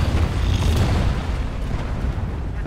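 A C4 charge detonating in Deep Rock Galactic, a loud close rumbling blast with heavy low-end roar that slowly fades over under three seconds.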